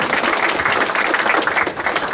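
A lecture audience claps during a talk on excavating an ancient Egyptian tomb, with loud, dense applause throughout and no talking over it.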